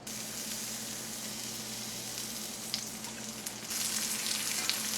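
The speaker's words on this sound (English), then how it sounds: "Now I'm going to start cooking it in some olive oil." Eggplant cooking in olive oil in a pan, a constant close sizzle with a low steady hum beneath, growing slightly louder and brighter near the end.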